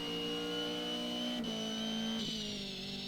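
Race car engine held at full throttle in the Automobilista sim racing game at Adelaide, a steady loud drone with brief pitch dips as gears shift, running continuously with no talk.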